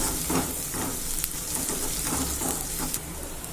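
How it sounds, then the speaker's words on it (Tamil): Onions sautéing in a pan for a capsicum gravy, a steady dense sizzle and crackle with faint stirring scrapes, continuous and close, no voices. "கொஞ்சம் வதங்கட்டும்"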